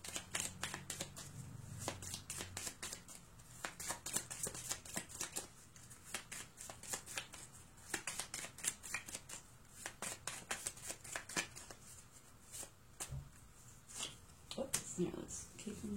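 Gypsy Witch fortune-telling cards are shuffled by hand in quick repeated riffles and flicks, close and crisp, while a person talks over them throughout.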